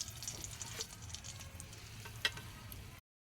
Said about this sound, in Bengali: তেলটা গরম হয়ে গেছে, শুকনো লঙ্কা ফোড়ন দেব